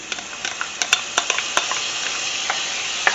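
Garlic sizzles in melted butter in a pan, a steady close frying hiss broken by sharp clicks and taps as it is stirred.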